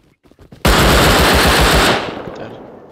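An MP5 submachine gun in the video game Rust fires one loud, close burst of rapid shots lasting just over a second, then cuts off sharply.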